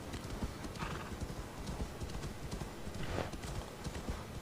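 Horse hooves clip-clop steadily in Assassin's Creed Valhalla as the mount trots along, with a whinny mixed into the dense, continuous in-game soundscape.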